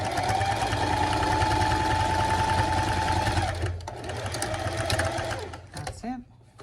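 A sewing machine stitches a fabric zipper pouch in a continuous close, buzzing run that slows and stops near the end, followed by brief handling sounds.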